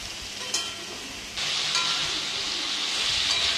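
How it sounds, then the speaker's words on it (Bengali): Ridge gourd and potato frying in a pan, a soft hiss that jumps to a loud steady sizzle partway through, with faint stirring, no voices. "এখন এই ঝিঙে আর আলুটা আমি ভালো করে ভেজে নিচ্ছি।"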